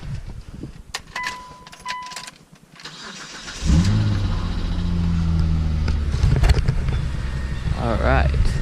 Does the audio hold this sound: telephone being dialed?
no